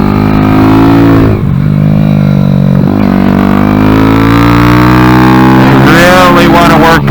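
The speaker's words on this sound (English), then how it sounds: "Short shifted there, so I can get 2 downshifts there." A Kawasaki Z125 motorcycle fitted with a Factory Pro shift kit revs loudly and up close, its engine pitch rising and dipping through gear shifts and downshifts, with a rider's voice faintly underneath.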